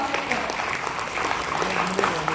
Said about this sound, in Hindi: आप तालियां नहीं बजाएंगे तो नया अमेज नहीं मिलेगा